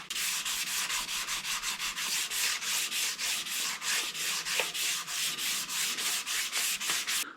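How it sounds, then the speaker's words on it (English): Close, steady back-and-forth strokes of hand sanding over body filler on a Honda ATC200X gas tank, a rhythmic scratchy rasp repeating about twice a second with no talk. "the goal is to sand away all that guide coat until everything is perfectly gray."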